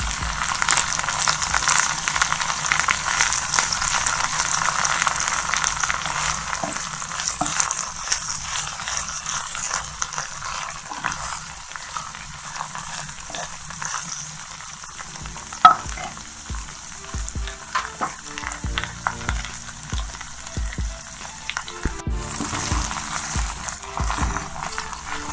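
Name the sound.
okra (bhindi) frying in a pan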